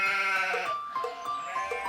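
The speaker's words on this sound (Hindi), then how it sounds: "पीटर द शेपर्ड, जो अपनी बकरियों को घास चरा रहा था।" Cartoon goats bleat in a short run of wavering, nasal calls over a soft music bed in an animated children's tale of a shepherd boy in the mountains.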